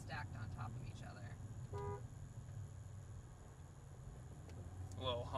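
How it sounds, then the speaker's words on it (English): A car horn gives a short honk partway through, heard from inside a vehicle driving through Phoenix, over low road rumble and faint voices. "A little honk for love."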